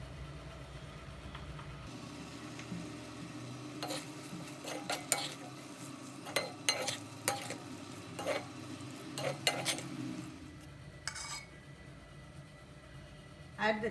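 Pachadi with added dal being stirred and mixed in a pan, giving soft scraping strokes and a series of sharp utensil clicks against the pan over a low background hum, the clicks clustering in the middle and near the end.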